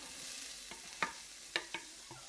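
Onion hitting hot oil in a pan on medium-high heat, a soft steady sizzle broken by a few sharp spoon scrapes and taps as it is stirred.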